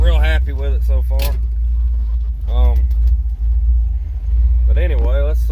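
A Safari car's engine runs steadily with a deep, continuous low rumble while it is driven, heard close and loud throughout, with someone talking over it.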